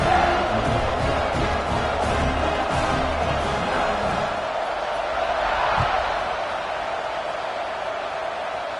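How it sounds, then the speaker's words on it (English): A football stadium crowd roars and murmurs after a touchdown, a broad sustained din that eases slightly toward the end, with a single thud partway through. "this crowd is buzzing after that last score"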